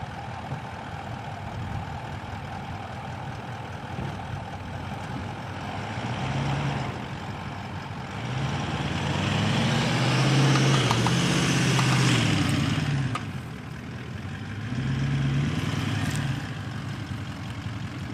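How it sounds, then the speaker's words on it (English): An off-road vehicle's engine runs steadily near by while it is being moved into position for winching, the low rumble swelling louder twice as the throttle is raised, with no talking. "So let's move the car quick"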